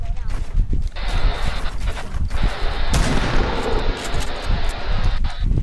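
Gunfire in an online shooter video game, loud and close, with bursts of shots layered over steady game noise while players talk over it.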